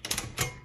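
A single backspace stroke on a 1956 Underwood Universal manual typewriter, a short mechanical clack with a carriage shuffle, heard close and alone with a few lighter clicks around it.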